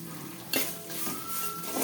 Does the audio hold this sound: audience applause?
no